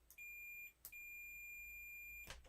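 A multimeter in continuity mode emits a steady, clear electronic beep while probing a homebrew TinyBASIC computer prototype. The tone sounds close, breaks off briefly, then resumes, with no voices over it.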